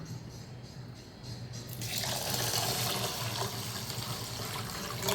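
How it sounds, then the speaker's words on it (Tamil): Water from a tap pours into a vessel of soaking lentils and rice, starting as a thin trickle and swelling after a moment into a loud, steady gushing fill. "இது மாதிரி இப்போ நல்ல தண்ணி ஊற்றிடலாம்"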